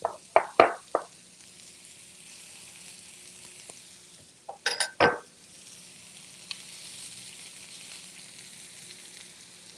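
Zaatar meatballs sizzle in a hot pan, opening with a few loud crackling bursts, then a second cluster of sharp hisses before settling into a quiet, steady frying hiss.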